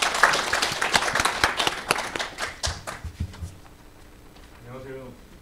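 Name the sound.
audience applause welcoming a keynote speaker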